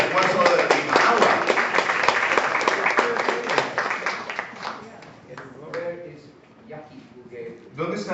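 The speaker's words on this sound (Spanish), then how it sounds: "despedimos con un fuerte aplauso a nuestro hermano Alex" A conference audience in Lima claps to send off a speaker, a dense burst of applause that fades over several seconds while a voice talks over it.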